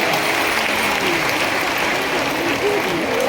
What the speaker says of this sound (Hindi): जोरदार ताली बजाकर स्वागत करें गणेश जी का